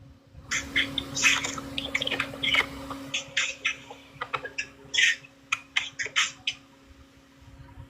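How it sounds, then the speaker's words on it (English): Birds chirping inside a ceiling, with a run of short, bright chirps and squawks close by over a steady background hum, some calls clustered and others spaced out. "I hear birds. Are there birds in the room there?"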